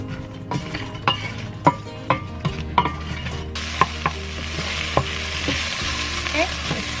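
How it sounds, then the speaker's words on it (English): Onions with a pinch of salt sautéing in a pan, a steady sizzle punctuated by regular sharp clinks of a utensil against the pan, close and without talk; the frying swells louder in the second half. "I'm going to start by sauteing my onions"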